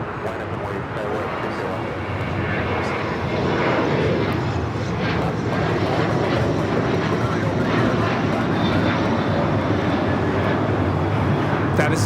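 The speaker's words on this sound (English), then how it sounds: "That is Alaska Airlines 585 taking off to Seattle on the 737-800" An Alaska Airlines Boeing 737-800 takes off from runway 25 right at LAX, a steady broadband jet roar that swells after a few seconds and holds loud throughout, with voices talking over it.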